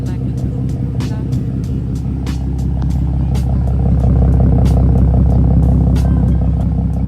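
A warmed-up Nissan 350Z engine idles close by with a steady, low rumble and a faint rhythmic clatter, while a person talks over it.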